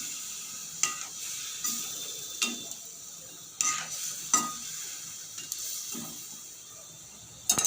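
Chicken curry masala frying in a pan after a little water is added, a constant hiss of sizzling with regular scraping stirs and light clicks of the spoon against the pan.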